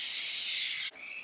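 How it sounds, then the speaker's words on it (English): Cooking oil sprays onto a madeleine mold in one loud, close hissing burst that stops abruptly, leaving a faint softer hiss after it. "Now spray your mold with cooking oil"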